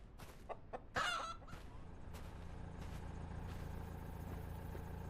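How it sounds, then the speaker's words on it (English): Chicken clucking in a video game, a few quick clucks and squawks near the start, with a louder burst around one second, then a steady low background hum. "Why is he holding the chicken with a cigarette?"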